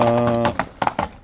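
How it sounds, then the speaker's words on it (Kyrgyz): A bay horse trotting: after a short tonal call at the start, a few distinct hoof clip-clops land in quick, uneven rhythm, close and clear. "Тарактаган тору ат экен бул."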